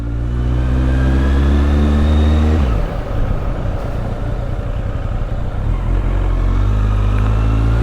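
A Kawasaki Z800 motorcycle engine revs as the rider sets off. The loud, close-up climbing note drops sharply after a few seconds into a rougher, throbbing growl that then steadies and builds again.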